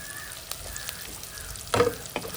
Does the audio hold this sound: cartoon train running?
no